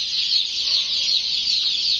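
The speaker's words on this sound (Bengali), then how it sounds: "এটা হচ্ছে আমাদের মুরগি" Chickens cluck nearby over a steady, bright chorus of high chirping from chicks that runs the whole time.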